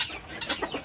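A Siamese chicken being fed bread and bran clucks in a few short, close bursts over a brief stretch, with no talk.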